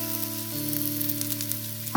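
Soaked rice frying slowly in a pan over a low flame for Bengali basanti pulao gives a steady, even sizzle with a faint continuous hum beneath it.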